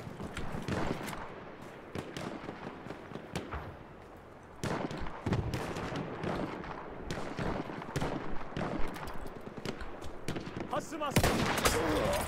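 Rapid pistol gunfire in a Battlefield 1 beta match, sharp close shots in irregular bursts amid other battle noise and someone talking over it.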